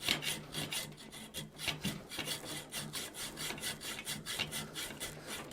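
A hand saw cuts metal for a forged latch in short, quick back-and-forth strokes, each rasping pass evenly spaced and close.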